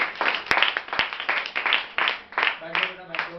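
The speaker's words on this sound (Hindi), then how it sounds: "ताली बजाओ जरा इस बच्चे के लिए" A classroom audience at a Gurukul Kurukshetra admissions session claps for a student, a quick run of rhythmic, evenly spaced claps close by with a voice speaking over them.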